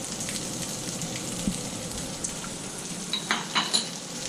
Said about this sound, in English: Stir fry and cook these out for a bit.